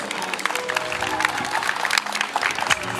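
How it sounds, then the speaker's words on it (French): Applause for a fire brigade colonel fills the space, a dense wash of clapping from a crowd at close to moderate distance, steady throughout with slight swells. "Je tiens à ce qu'on l'applaudisse encore."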